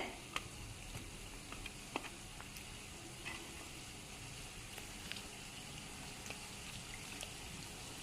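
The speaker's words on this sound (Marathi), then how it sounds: "हे आंब्याचे कोय मी आता याला थोडं पाण्यामध्ये धुवून घेणार आहे" Mango seed kernels are rinsed lightly in water, giving a continuous soft splashing and trickling wash with faint scattered clicks, moderately quiet and steady throughout, with no talking.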